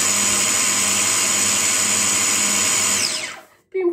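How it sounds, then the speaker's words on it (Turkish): A hand blender's small electric motor whirs steadily at high speed mixing a milkshake for a few seconds, then winds down and stops abruptly, leaving a brief quiet moment. "blender kullandığım zaman her zaman sonuna kadar devam ediyorum"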